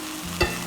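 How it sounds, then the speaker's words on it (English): Venison sizzles in a cast iron pan on an induction burner, a steady, bright frying hiss with a short stirring scrape in the middle, close and without talk. "So I got a good sizzle going here."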